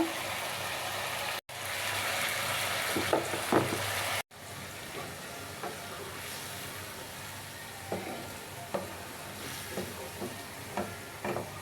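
Fried fish in a pan with yogurt hisses in a steady, close sizzle after a splash of water goes in, the hiss broken by brief cuts and small pops.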